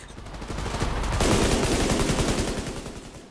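Rapid gunfire from a weapon fired from the hip in The Division 2, a dense, loud, continuous burst of shots that swells after the first second and keeps going to the end.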